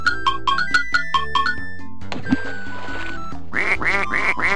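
Cartoon duck quacks in the V.Smile Dora video game, a chiming run of repeated electronic notes followed by a series of bright, evenly spaced quacks over synthesized music.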